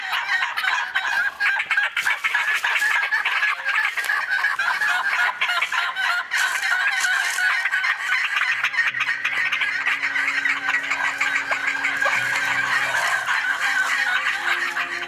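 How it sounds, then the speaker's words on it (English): A dense flock of turkeys gobbling and clucking continuously, loud and close, with overlapping calls filling the whole stretch. "Can you hear the turkeys?"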